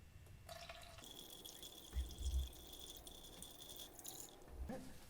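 Coolant draining quickly out of a Mazda Miata cooling system during a flush, a steady trickle with splashing and a few dull thuds, close by and fairly quiet, with no talking.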